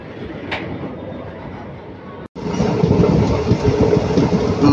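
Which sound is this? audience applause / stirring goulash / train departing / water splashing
train departing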